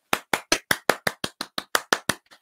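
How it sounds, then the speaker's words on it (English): About a dozen sharp, close claps ring out at a slow, even beat, each crisp and separate, fading a little at the very end. "Oh, you're applauding it, are you?"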